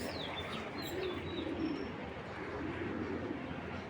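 A pigeon at a Bangladeshi breeding loft coos softly and steadily amid a bed of low cooing from other birds, with a few faint chirps above, no voices.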